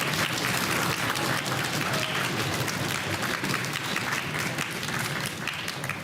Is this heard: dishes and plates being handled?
no